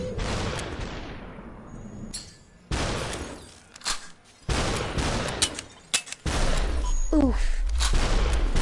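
Gunfire from the Superhot video game comes in sharp bursts of loud shots with hard decays, separated by quiet gaps, and a man briefly exclaims near the end.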